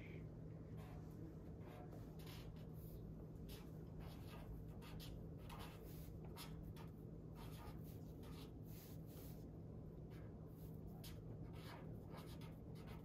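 A pen writes a love note on paper, a steady, close, quiet scratching that runs without a break over a soft background hiss.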